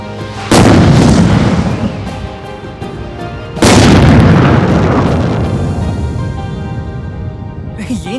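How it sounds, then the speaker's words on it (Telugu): Two big firecracker bombs go off in turn, each a loud, close, booming blast followed by a long rumbling decay that fades slowly. "పెద్ద బాంబు పెట్టాలి రా."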